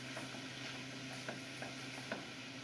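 Shredded chicken breast reheating in a pan, a faint steady sizzle with soft scraping stirs and a few light taps of the utensil against the pan, no voices.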